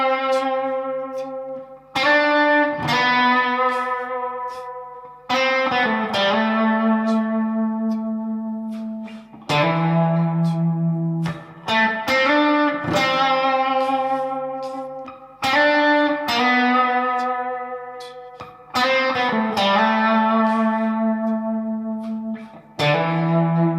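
Distorted electric guitar riff from a song, played as a loud, sustained phrase that repeats twice with hammer-on notes, its chords ringing out with effects-heavy overdrive and no voice over it.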